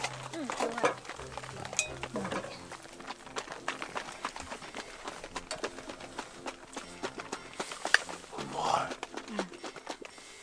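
Rhythmic sloshing thumps of cream being shaken in a jar to make butter at a winter family campsite, quick repeated knocks close by, with people chatting and laughing over them.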